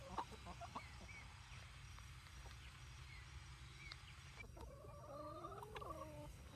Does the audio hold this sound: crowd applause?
no